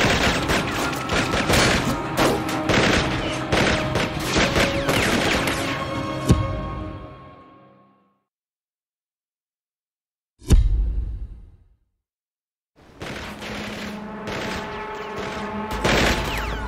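Gunfire in an NCIS shootout aboard a ship: dense, rapid bursts of shots, then a sudden silence broken by one heavy booming shot, before the loud volleys resume.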